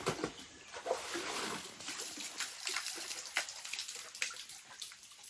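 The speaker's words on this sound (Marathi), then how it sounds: "तर अशा प्रकारे बावडीतून पाणी काढायचं." Water drawn from a step well splashes and trickles in faint irregular bursts, with soft knocks and sloshing nearby.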